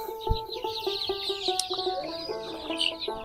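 Fifteen-day-old native chicken chicks cheep in a busy chorus of high, rapid peeps, close and overlapping continuously, with a brief low thump near the start.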